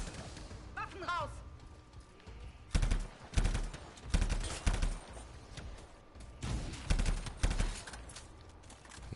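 Bursts of automatic gunfire from the video game Anthem, several loud rapid volleys spaced a second or two apart, with game sounds and a voice in the background.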